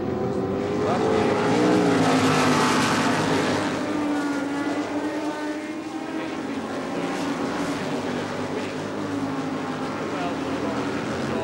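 Formula 5000 race cars at Adelaide International Raceway in the 1979 Rothmans International Series, a loud, sustained engine roar with shifting pitch that swells early and then holds steady, mixed with a voice talking over it.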